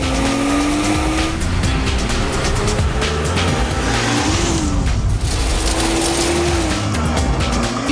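A BMW X3 second-generation SUV accelerates hard, its engine note rising and falling loudly up close with a whining pitch sweep and tire noise, alone without voices.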